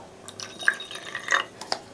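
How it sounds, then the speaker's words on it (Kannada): Water is poured into a glass of whisky: a few soft drips and light splashes in quick succession, close and quiet, ending with a brief clink. "ಇದಕ್ಕೆ ನೀರು ಹಾಕ್ಕೊಂಡು ಟ್ರೈ ಮಾಡೋಣ ಹೇಗಿರುತ್ತೆ ನೋಡೋಣ"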